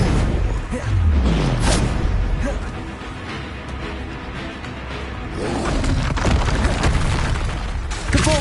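Depulso spell cast in Hogwarts Legacy, a burst of magical force with booming impacts and rumbling blasts that swell, fade and return, with game sounds layered over it.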